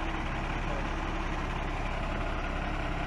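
A loaded truck idles at a sunflower harvest, a steady low diesel rumble that holds at an even level throughout, close and continuous with no voices over it.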